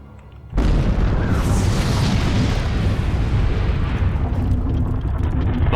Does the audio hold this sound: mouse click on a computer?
no